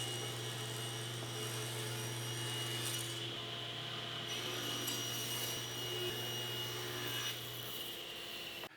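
A power saw rips wooden boards to their final width for a bookcase glue-up. A steady whine with a rough, grinding cutting noise carries through the whole passage, shifting slightly in tone, and the blade's note drops off near the end.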